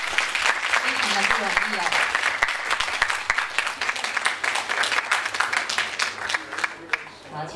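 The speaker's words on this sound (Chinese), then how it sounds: "请大家给他们一个掌声" Audience at a Chinese speech competition clapping, dense applause that is loud at first and thins out toward the end, with a voice speaking over it.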